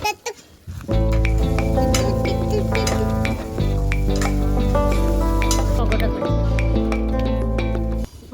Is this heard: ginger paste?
yes